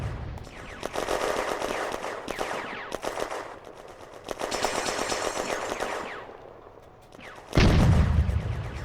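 Automatic weapons fire in a tactical WWII war game set at Villers-Bocage, June 1940: dense, loud bursts of machine-gun fire rattle in waves, capped by a heavy, sharp boom near the end.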